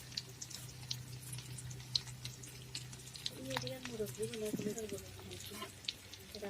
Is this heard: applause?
no